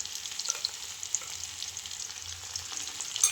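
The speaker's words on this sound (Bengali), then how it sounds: "এই যে পেঁয়াজটা লাল লাল করে ভাজা হয়ে গেছে, এবার আমি দেবো একটু আদা রসুন লঙ্কা পেস্ট।" Onions fried until reddish hiss softly in a pan as ginger, garlic and chili paste goes in, with a quiet, even sizzle and faint scraping throughout.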